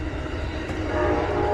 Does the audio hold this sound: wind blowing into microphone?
no